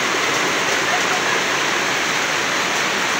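Heavy rain pours down in a steady, dense hiss without letup, loud and close.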